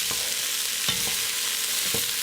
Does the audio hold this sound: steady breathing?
no